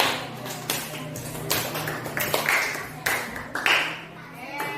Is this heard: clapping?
yes